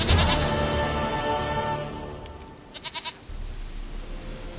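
A goat in The Witcher 3 bleats in a short burst near the end, a few quick pulsing cries standing out over steady game ambience, with no talking.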